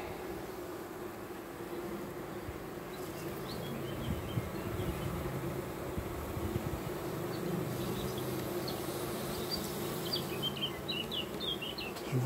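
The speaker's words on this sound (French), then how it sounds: "On commence à avoir des vieilles abeilles" Bees buzzing steadily around, a low continuous hum close by, with faint bird chirps in the background.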